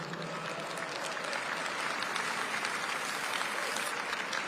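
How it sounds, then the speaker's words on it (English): An audience applauds executive orders on coal production, a dense, steady wash of many hands clapping that holds at an even level for several seconds. "no one should be clapping for coal"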